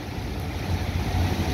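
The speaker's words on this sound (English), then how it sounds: "It's splashing up over to the dock." Storm surge waves from Hurricane Delta wash and splash against a dock in Biloxi, a steady, close roar of churning water mixed with gusting wind noise on the microphone.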